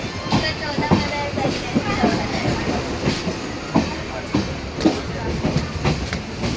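A moving Konkan Railway train rumbles steadily with rhythmic clickety-clack from the wheels on the rails, heard from inside a nearly empty carriage.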